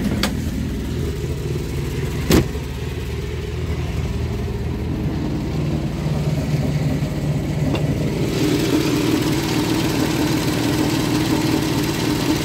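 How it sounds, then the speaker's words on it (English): A 1969 MG MGB GT engine idles steadily nearby with a slight exhaust blow, a continuous even rumble broken by a sharp click or two and a small shift in tone near the end. "There's a little slight exhaust blow which we'll attend to before the car's sold"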